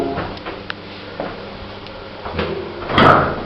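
Lift doors sliding shut inside an abandoned hospital building, a few faint mechanical clicks and knocks followed by a louder rumbling thud as the doors meet, heard alone in a quiet interior.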